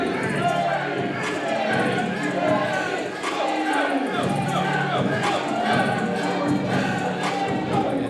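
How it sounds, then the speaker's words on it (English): A wrestling crowd at a DPW show roars steadily and loudly as the tag team Flex Appeal, including Teddy, makes its entrance to the ring, with shouts and cheers rising throughout and voices mixed into the din. "You can hear the crowd's already behind him."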